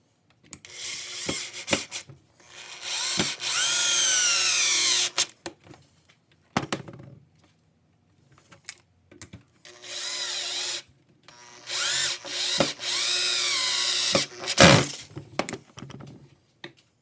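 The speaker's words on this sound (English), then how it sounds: "we're going to screw that together right now" A power drill drives screws into wooden studs in several bursts, each a loud whining run lasting a second or two, separated by short knocks and quiet pauses, close up with no talk.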